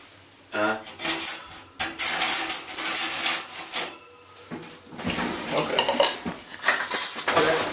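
A metal spoon clinks and scrapes against a dish while a honey Dijon mixture is stirred, irregular bursts of clattering up close with brief pauses between.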